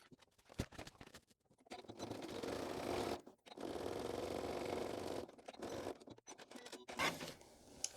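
A sewing machine runs a second line of stitching along the bottom of a crossbody bag, in close bursts of rapid whirring separated by short pauses and a few handling clicks.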